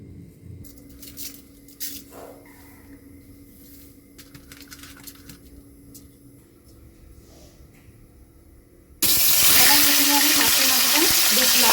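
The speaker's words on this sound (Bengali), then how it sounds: "মাথাটাকে একটু লাল করে ভেজে নিয়েছি" A fish head fries in hot oil, starting with quiet clatter and handling before a loud, dense sizzle erupts suddenly and holds steady, close by.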